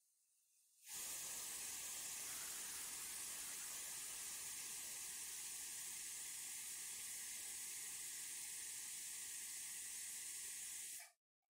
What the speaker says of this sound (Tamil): குக்கரை மூடி வெயிட் போட்டுறணும்.